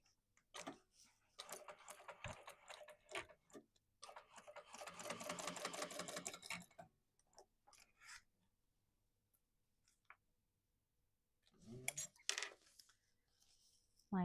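A sewing machine stitches a 10-card-slot double-zip wallet in two bursts of rapid rhythmic needle clatter, with quiet pauses and brief handling noises between the runs, heard fairly close.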